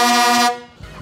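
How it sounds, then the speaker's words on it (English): Loud, rich blast of twin 22-inch Hadley air horns on an Iveco S-Way truck, held for about half a second, then cut off, with a faint clatter afterward. "2 22-inch Hadley horns."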